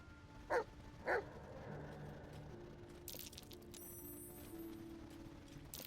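Two loud barks from a dog in Baldur's Gate 3, roughly half a second apart near the start, then a quiet stretch of faint game ambience with soft tones.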